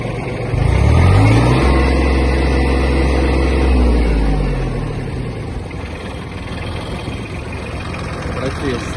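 A Yanmar F-155 Japanese mini tractor runs its engine with the tiller blades turning, a loud low rumbling drone that swells early then settles into a steady churning hum, with someone speaking over it.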